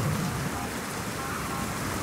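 Steady rain pours down outdoors as a dense, even hiss that fills the whole moment, with a faint low rumble underneath and no one speaking.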